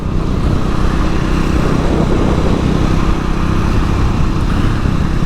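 Triumph Scrambler 400x motorcycle engine running steadily while riding, a loud continuous low drone mixed with wind and road rumble, with no talking.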